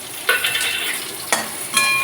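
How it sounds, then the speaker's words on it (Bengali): Chopped onion dropped into hot oil already holding dry red chilli and black cumin, frying with a steady sizzle and a few sharp bursts as pieces hit the pan and are stirred, no voices. "এবার পেঁয়াজ কুচি দিয়ে একটু ভাজা করবো।"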